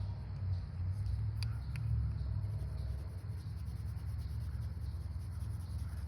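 Colored pencil held flat, shading skin tones on paper for a self-portrait, giving a steady, close, soft scratchy rub that continues without a break under low background hum.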